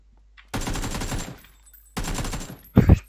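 Two sustained automatic bursts of gunfire from the PUBG battle-royale game, each about a second and a half long and loud and close, then a short heavy thump at the end.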